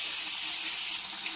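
Tap water pours at full force into a bathtub being washed, a steady hissing splash heard close and alone for a brief stretch.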